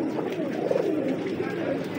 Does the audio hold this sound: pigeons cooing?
yes